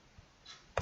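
A single sharp computer mouse click near the end, close and crisp, following a faint softer tick, with no talking.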